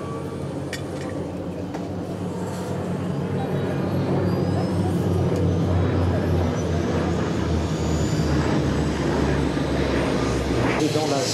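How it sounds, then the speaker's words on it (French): A Nord Noratlas 2501 transport plane drones overhead at an air show in Hyères, its piston engines making a steady, loud, low throbbing roar that builds slightly as it passes, with an announcer talking over it. "je vous demande de tendre l'oreille et de vous ravir de ce vrombissement proposé par le Nord Atlas"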